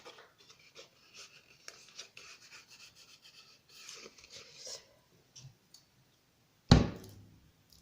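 A paintbrush rubs and rasps softly as glue is spread along the paper-covered spine of a handmade earring storage album, with steady light strokes followed by one sharp knock near the end.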